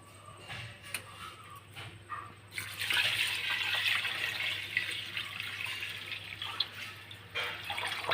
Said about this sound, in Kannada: ಇತ್ತ ನಮ್ಮ ನೆಕ್ಕ ನೀರು ಸೇರ್ಪಾಗ